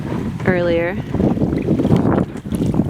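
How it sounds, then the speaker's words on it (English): Gusty wind buffets the microphone while a kayaker paddles on a lake at Labrador Hollow in autumn, a steady low roar with a person speaking briefly over it. "The wind is picked up"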